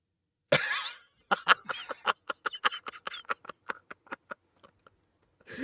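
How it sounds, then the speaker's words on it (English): A burst of coughing, one harsh cough followed by a rapid series of short, sharp hacks that taper off and grow fainter. "I was coughing and I didn't want to"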